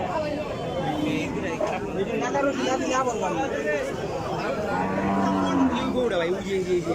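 Several cattle moo repeatedly at a cattle market amid a busy crowd of people chatting, the lowing rising and falling over continuous background voices.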